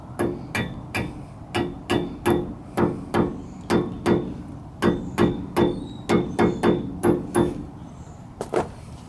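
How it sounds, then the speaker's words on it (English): A hammer taps a wheel bearing cap back into place on a 1997 Ford F-150, about twenty sharp, fairly loud, close knocks in a steady rhythm, with a brief pause near the end before a final pair of taps. "Lightly tap it back on with the hammer."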